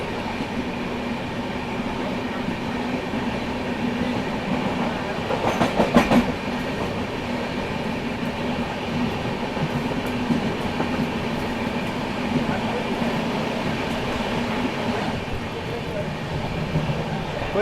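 A passenger train travelling from Ratlam toward Delhi via Kota rumbles along the rails with steady clickety-clack wheel beats, a loud continuous interior roar and a brief rattling surge partway through.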